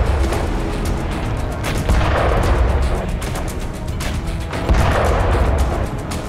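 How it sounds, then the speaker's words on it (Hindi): Rolling booms and bursts of gunfire or artillery heard in war footage as an explosion goes off near a warship on the Black Sea off Sevastopol, dense and continuous with heavy low rumble and repeated sharp cracks. "अब एक और वीडियो में शिप के करीब धमाका दिखाई दे रहा है।"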